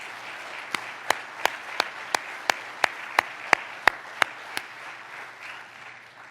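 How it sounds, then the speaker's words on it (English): Applause at the 2020 ForeverDads Tribute to Fatherhood for the fathers being honored: a dozen sharp, evenly spaced loud claps cut through a soft bed of scattered clapping, then the crisp hits stop and a quieter murmur of applause trails on. "Give another hand for all our fathers"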